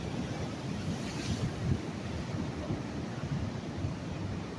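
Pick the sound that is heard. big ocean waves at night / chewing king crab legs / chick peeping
big ocean waves at night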